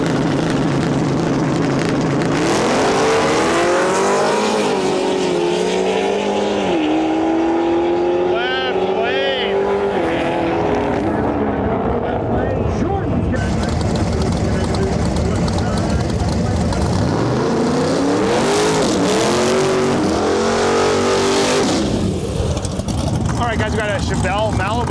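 Roaring race car engines rise and sweep past down a drag strip in loud bursts, revving and accelerating, with a person talking over the din throughout.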